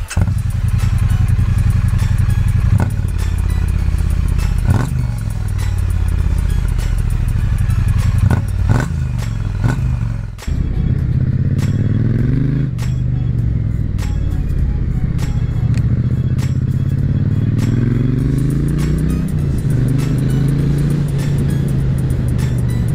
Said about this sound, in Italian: intanto andiamo a farci un giro in moto perché avevo proprio voglia